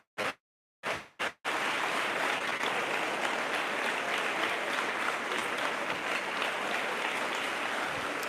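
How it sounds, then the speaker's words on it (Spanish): A few brief bursts of clapping, then sustained loud applause from a large church congregation that continues steadily to the end. "Aplauso para el Señor que nos dio la vida eterna"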